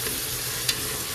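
Tomatoes being crushed in a hot frying pan while cooking kansi, a steady close sizzle with one brief soft scrape or press partway through.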